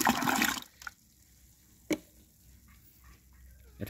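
A liquid mixture of photosynthetic bacteria ferment splashes loudly into a container for a biochar soil blend, then the pour stops and a few scattered drips and small splashes follow before a final gush.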